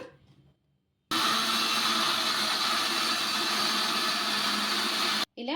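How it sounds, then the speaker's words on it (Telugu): A kitchen mixer grinder whirs steadily as it grinds soaked moong dal into a smooth dosa batter, loud and continuous for about four seconds after a quiet start, then cutting off abruptly. "ఇప్పుడు మిక్సీ పట్టేసుకుందాం మెత్తగా"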